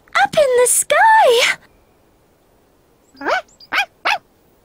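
A cartoon dog barks in a children's animated show, three short, sharp yaps close together near the end, following an earlier stretch of louder voiced sounds.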